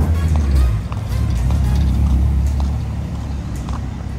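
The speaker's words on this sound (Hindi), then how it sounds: "यहाँ पे ना लोगों को साइलेंसर का बहुत शौक है, सारी गाड़ियों में ऐसे ही साइलेंसर रखते हैं।" A car fitted with a loud aftermarket modified silencer rumbles close by on a Caribbean street at night, a deep steady engine-and-exhaust drone filling the whole stretch with a slight dip near the first second.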